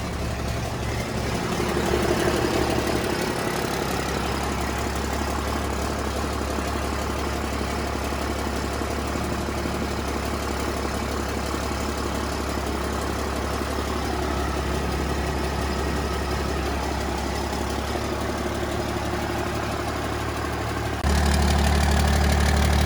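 A fully gutted Cummins diesel drag truck idles inside a smoky building, a steady deep rumble with a constant low drone, briefly rising in loudness near the start and again at the very end.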